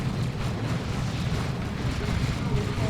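Doom Bolt explosions in Warhammer 40,000: Dawn of War 2, a continuous churning rumble of blasts and battle noise, steady and dense throughout with a voice talking over it.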